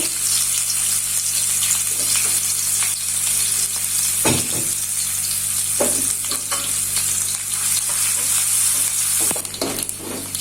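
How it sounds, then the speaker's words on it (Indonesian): Small anchovies (teri) frying in hot oil in a home kitchen, a loud continuous sizzle with a few sharper crackles and spatters, with no talking. "Dan di sini untuk terinya ini saya goreng dulu."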